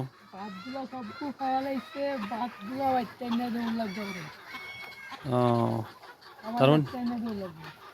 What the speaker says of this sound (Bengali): না ভালোভাবেই খাইতেছে মুরগিগুলা